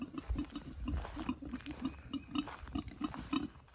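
Pigs grunting close by in a steady rhythmic series of short low grunts, with soft chewing-like snuffles in between and no talk.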